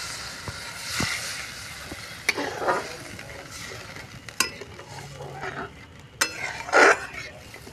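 Water goes into well-fried masala in a pan for a raw banana kofta curry, setting off bursts of bubbling sizzle and stirring scrapes, with a voice talking at moderate volume throughout.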